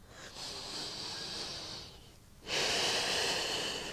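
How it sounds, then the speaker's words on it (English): Slow yoga breathing, heard close and soft: a gentle drawn inhale followed, after a short pause, by a fuller, breathier exhale through the nose or mouth. "Inhale and exhale here."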